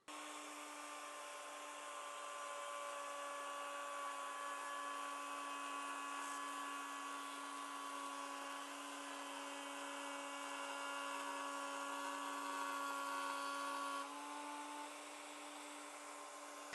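Wood router cutting clamped-down wood, a steady high-pitched motor whine with a strong tonal hum, held evenly and fairly loud for the whole stretch with no talk.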